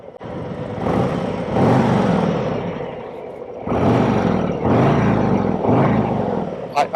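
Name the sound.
2024 Harley-Davidson Road Glide engine revving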